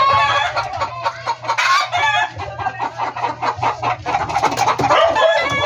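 A hen clucks repeatedly and loudly up close in a rhythmic, throaty series after laying an egg, with a few sharper calls mixed in.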